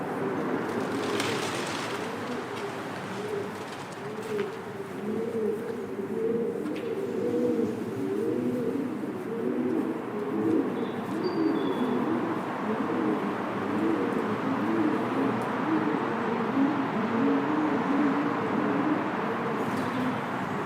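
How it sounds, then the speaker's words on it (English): Many pigeons coo continuously near a bridge on an urban street in Leicester, a low, overlapping warble with a soft hum of background noise and no talking. "there are plenty of pigeons about."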